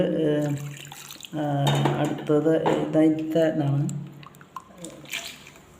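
Tamarind water is poured into a coconut roasted trevally fish curry, a soft watery splashing heard beneath a person talking steadily.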